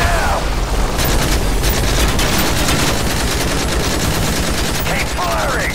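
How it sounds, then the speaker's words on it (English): Rapid, sustained gunfire in Call of Duty Modern Warfare 3 rattles nonstop at an enemy helicopter, with dense bursts and heavy booms filling the whole stretch. "Keep firing!"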